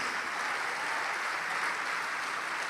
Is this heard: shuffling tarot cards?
no